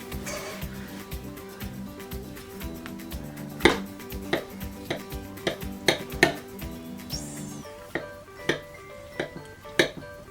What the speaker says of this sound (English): So here is our finished product. And we're gonna cut it.